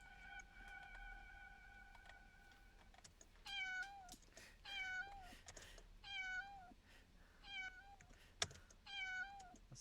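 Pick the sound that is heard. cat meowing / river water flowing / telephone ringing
cat meowing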